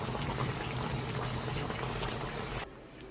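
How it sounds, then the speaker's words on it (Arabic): Chicken soup broth boils hard in a pot on a stove, a steady bubbling and churning that runs close and continuous, then drops abruptly to a quieter simmer near the end. "ادي الشوربه غليت اهي، بقت 100 100"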